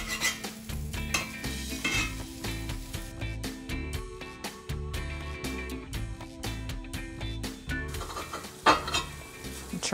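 Tortilla frying in an oiled pan, set in a busy kitchen backdrop of steady sizzle with frequent clinks and stirring knocks of utensils against cookware, continuous and moderately loud with no talk.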